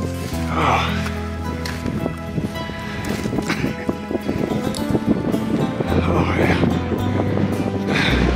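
Wind buffeting a microphone on a mountain trail at Sentinel Pass near Moraine Lake, a loud, continuous rumbling roar with gusty swells and scattered crackles, with a voice briefly heard over it.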